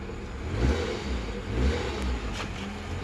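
Car fitted with a fake turbo spinner, running rough and smoking, revs in a few low rumbling surges, close up with no talk.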